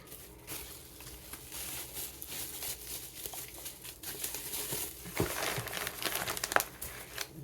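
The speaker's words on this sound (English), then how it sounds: "So we always bubble wrap, although we use the peanut and the paper, wrapping paper." Scented candles being packed in bubble wrap and wrapping paper for shipping, with steady close crinkling and rustling, a few sharper crackles and taps near the end, and no talking.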